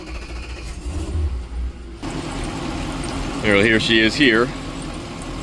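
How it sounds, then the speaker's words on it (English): The port Mercury outboard engine on a Boston Whaler cranks and fires up, then settles into a steady running drone while someone speaks briefly over it. "Alright, so it's our port engine here. Let's just fire it up here."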